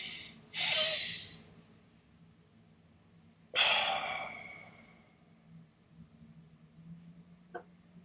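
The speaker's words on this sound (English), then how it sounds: "This double breathing in and then breathing out" Two sharp, breathy inhalations in quick succession followed by a longer exhale, done as an anxiety-calming breathing exercise; close and fairly loud, with a soft click near the end and no talk.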